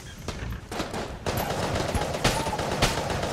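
Hegemony Carbine fire in the game Enter the Gungeon: quick bursts of many rapid shots crackle at a fairly even loud level, with brief gaps between volleys.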